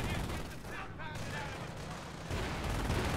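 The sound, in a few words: tank gunfire in Company of Heroes video game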